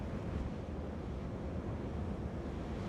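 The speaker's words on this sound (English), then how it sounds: "bang as waves must be hitting the base of the cliffs nearby." Waves hitting the base of sea cliffs on Scotland's wild north coast, heard as a dense, continuous roar of surf mixed with wind buffeting, steady and loud with no voices.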